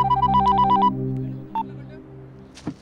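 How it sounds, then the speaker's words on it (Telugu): A telephone rings in a film scene, a short electronic trill burst followed by a brief second tone, fairly close and clear with no talk. "sir phone"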